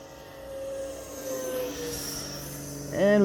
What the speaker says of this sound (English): And we get a full-scale plane in the background taking off.